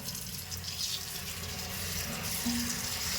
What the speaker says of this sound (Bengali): ভালোভাবে চটকে চটকে ধুবো তবে না বালিগুলো যাবে